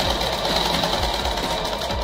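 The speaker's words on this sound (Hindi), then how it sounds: "इसके ऊपर आपको डबल सिलाई फेरना है" A sewing machine runs a double line of stitching along a petticoat, a loud, close, steady mechanical whir with a regular needle rhythm.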